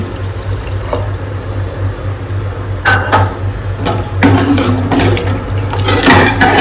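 Water splashes and pours into a cooking pot of Punjabi kadhi with potato, with irregular clinks and splashes over a steady low hum.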